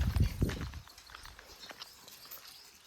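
A mare's hooves clip-clop on the ground, a few close, heavy steps at first, then softer scattered footfalls trailing off.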